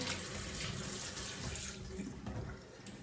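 Tap water running steadily into a container or sink to dilute fertilizer, a continuous close splashing hiss with no talking.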